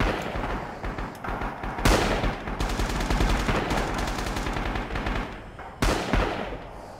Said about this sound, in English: this trench gun goes quite far